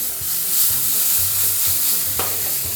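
Soy sauce poured into very hot oil with scallions over high heat, giving a loud, close, hissing sizzle with stirring clatter underneath.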